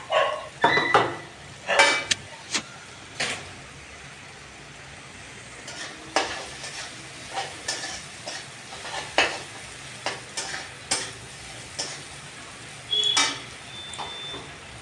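Vegetables for a Bengali greens and eggplant fry sizzle in a pan while a spatula stirs and scrapes in irregular bursts, moderately close with no talking.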